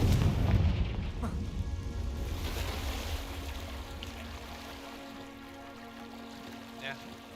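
A Confringo blasting spell in Hogwarts Legacy goes off with a deep boom at the start, then a rumbling tail that fades slowly into a low ambient hum.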